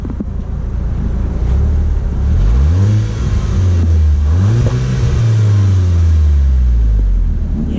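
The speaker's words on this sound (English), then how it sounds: "Give us a little rev." A wrapped Volkswagen Golf R Mk6 revving outdoors, its engine note rising and falling through several loud revs over wind noise, with no talking.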